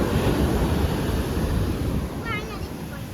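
Stormy sea waves surge onto the shore in a loud, continuous roar of water and wind that eases slightly toward the end, where a short voice briefly rises over it.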